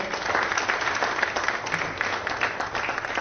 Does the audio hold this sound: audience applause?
yes